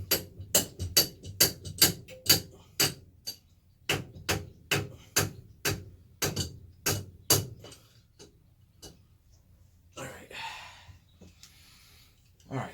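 A long adjustable wrench is struck repeatedly against a water pump nozzle on a Westerbeke marine engine, a run of sharp, evenly spaced metallic knocks about twice a second, close and loud, then a pause and a few scattered clanks.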